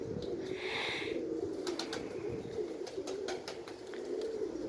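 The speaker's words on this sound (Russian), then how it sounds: "Вот один голубь." Pigeons at a loft coo softly in gusty wind, low murmuring calls running steadily throughout with a few brief higher chirps, fairly close and alone without speech.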